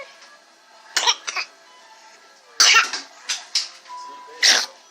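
Several sharp, explosive bursts close by, a baby's sneeze among coughing-like fits in a hospital during an RSV stay, with quiet background between them.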